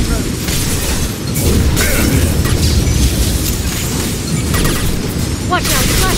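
Flashbang grenades going off in Mass Effect 2 during a firefight, heavy booming bursts layered over continuous loud combat noise, with brief sharp crackles near the end.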